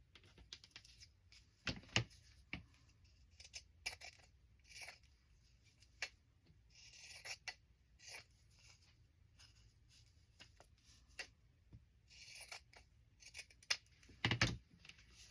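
Scissors cutting doubled see-through cotton fabric give faint, sparse snips and crisp rustles at irregular intervals, close by in an otherwise quiet room.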